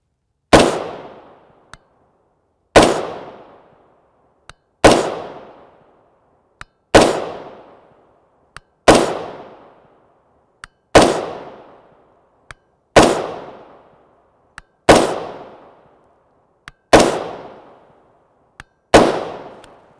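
A rifle with a 10.5 inch barrel and a muzzle brake fires 5.56x45mm 55gr FMJ M193 rounds: ten loud, sharp shots at a steady interval of about two seconds, each with a fading tail and a faint click between shots.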